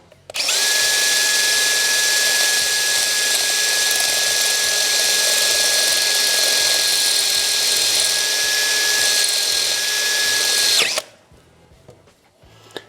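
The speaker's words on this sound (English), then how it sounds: "Step one is going to be to drill this hole out." A power drill whines steadily and loudly for about ten seconds at a constant pitch while drilling out a hole on a 2001 Harley-Davidson, then cuts off, leaving quiet room sound.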